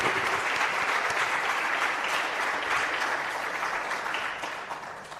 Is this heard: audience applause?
yes